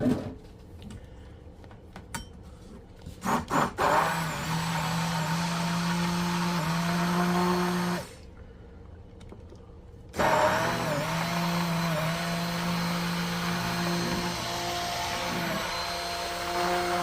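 An electric mixer blending yeast bread dough: a few scraping knocks, then a loud steady motor whine that stops for about two seconds and starts again, running continuously close by.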